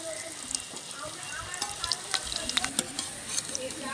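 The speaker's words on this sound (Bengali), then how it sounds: "বন্ধুরা এইভাবে কম আঁচে কিন্তু ভেজিটেবল চপগুলি ভেজে নিতে হবে" Vegetable chops deep-frying slowly in refined oil over low heat, a steady soft sizzle with scattered pops and crackles, occasional utensil clinks, close and moderately quiet.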